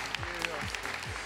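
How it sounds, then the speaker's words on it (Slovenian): Audience clapping during the final episode of a Slovenian TV music talent show, a steady burst of applause with a few sharp claps standing out, a voice speaking over it. "Dajte aplauz za tole punco, ko se vseh boji."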